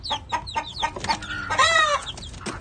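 A young gamefowl chick from the 5K Sweater Escolin line clucks and chirps several times in quick succession, close and clear, with a short rising call in the middle and no talking.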